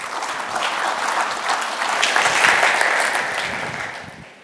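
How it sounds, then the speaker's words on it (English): A conference audience breaks into applause for a denim company founder, a dense crowd of clapping hands that swells to a peak midway and then tapers off, loud and sustained with no talk over it. "Ladies and gentlemen, a round of applause,"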